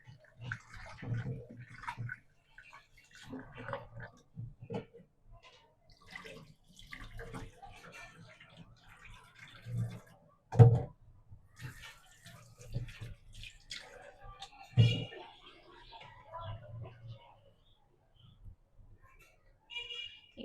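Three potatoes are rinsed by hand in warm water, with intermittent splashing, sloshing and dripping close by.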